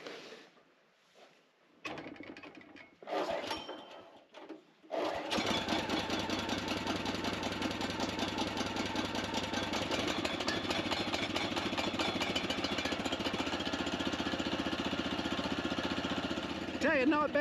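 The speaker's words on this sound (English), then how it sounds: "we're going to get the mill warmed up and let her idle for a bit to make sure she's going to run fine" A Kohler engine on a portable sawmill starts after quiet moments with a few handling noises, then settles into a steady, loud, chugging idle. It runs evenly to the end, with someone speaking at times.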